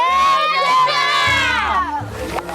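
A crowd of children shouts loudly together at the Chherchhera festival, a sustained chorus of high voices rising and falling for a couple of seconds, close and dominant.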